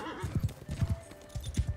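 Armored cavalry horses clip-clop steadily across ground in a medieval strategy video game, a quick rhythmic patter of hooves at close range with a brief whinny-like texture and light background noise.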